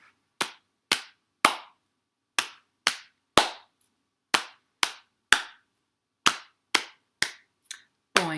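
Hand claps at a library storytime, about fifteen single sharp claps in an uneven rhythm with silent gaps between them, close and distinct.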